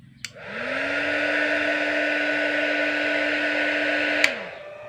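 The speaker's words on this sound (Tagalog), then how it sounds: "Umikot na rin yung kanyang blower." Cooling blower fan inside a repaired power inverter spins up after a click, holds a steady loud whirring hum for several seconds, then winds down with a second click, heard alone at close range.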